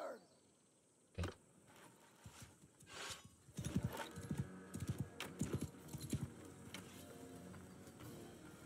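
Horses clip-clop in Realm of Thrones, a Game of Thrones mod battle scene, starting with scattered hoof knocks and building into a dense, rapid patter of many hooves, moderately near.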